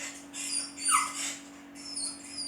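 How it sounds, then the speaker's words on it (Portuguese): A dog crying played back on a TV, with several high whimpering whines and yelps rising and falling over a faint steady hum, clear but not loud. "Som de um cachorro chorando."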